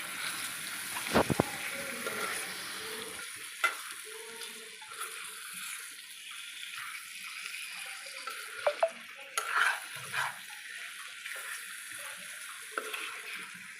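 Chicken being mixed with a wet masala paste in a pan for chicken curry, with soft scraping and stirring, gentle sizzling and occasional utensil clinks against the pan, faint and close.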